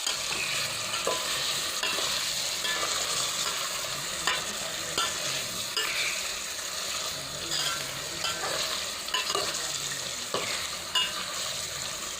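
Ground masala fries in hot oil in a village kitchen, making a continuous close sizzle broken by regular scraping and tapping as it is stirred, with no talk.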